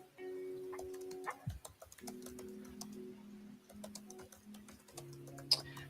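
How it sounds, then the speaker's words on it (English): Soft, steady typing on a computer keyboard, a quick stream of light key clicks over a low sustained hum of background rain ambience, with no talking. "I think we'll do typing."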